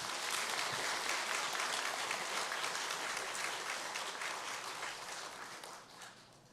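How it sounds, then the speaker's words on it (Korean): Congregation applauding in a church during a Sunday worship service, with dense sustained clapping from many people that holds steady and then slowly fades toward the end, and no talk over it. "우리 장로님 박수 한번 좀 쳐드리시죠."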